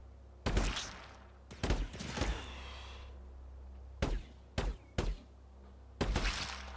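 Gunfire in The Anacrusis video game comes as sharp, loud single shots and short bursts at irregular intervals, with quieter gaps between them.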